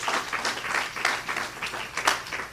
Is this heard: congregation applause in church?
yes